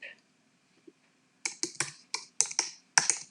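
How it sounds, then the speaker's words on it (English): Typing on a computer keyboard, with a quick run of crisp, close keystrokes after a short quiet pause and a brief bit of earlier sound. "And then I'm going to type"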